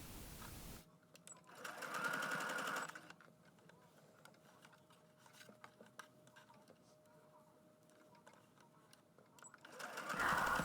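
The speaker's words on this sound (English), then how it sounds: "here I am at the sewing machine, and I'm simply going to just sew around in a circle and attach" A sewing machine stitches around in a circle to join two fabric pieces of a child's double-sided bucket hat, with quiet rapid bursts and softer mechanical ticking between them.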